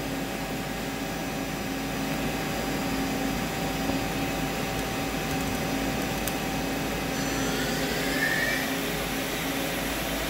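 A Doosan Puma 3100LY CNC lathe spindle turns at 1000 RPM, giving a steady, even mechanical hum with a broad airy whir over the whole stretch and a faint rising tone near the end, no voices.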